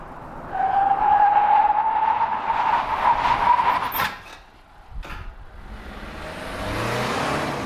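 A 2025 Acura RDX A-Spec brakes hard under full ABS, tires skidding and squealing in a sustained close whine that cuts off as the SUV stops, followed by quieter rumbling.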